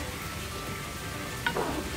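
Mie goreng fried noodles are stirred in a hot pan, a quiet steady sizzle with a brief scrape of the utensil midway, no talking.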